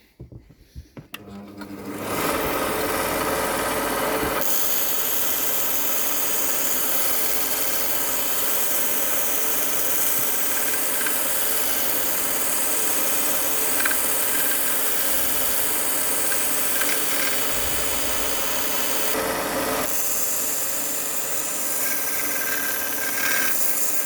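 A belt grinder shapes a survival bushcraft knife, starting up and then running in a loud, steady, close whirring grind that holds for about twenty seconds, with small shifts in tone as the blade is pressed against the belt.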